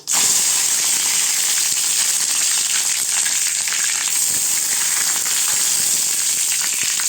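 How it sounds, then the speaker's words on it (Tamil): Dried red chillies and curry leaves sizzling in hot oil for a mint chutney, a loud, bright, continuous hiss and crackle that bursts in at the start and holds steady. "அடுத்து காஞ்ச மிளகாய் போட்டுக்கலாங்க. அடுத்து கறிவேப்பிலை போட்டுக்கலாம்."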